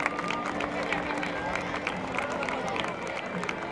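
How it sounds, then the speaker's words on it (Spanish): Outdoor crowd applauding during a parade of municipal delegations with flags and rowers, a steady dense patter of clapping with cheering murmur, sustained and moderately loud throughout. "Un aplauso para todos los que hoy sirven."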